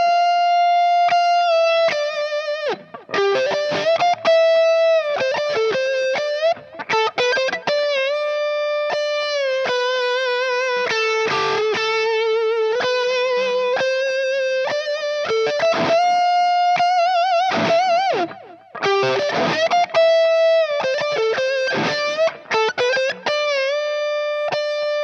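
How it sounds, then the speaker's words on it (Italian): A Les Paul electric guitar played with high distortion through a Headrush MX5 modeler sings loud, sustained lead lines, with held notes, bends and quick runs that ring continuously throughout. "alziamo la distorsione, prendo la Les Paul e facciamola cantare"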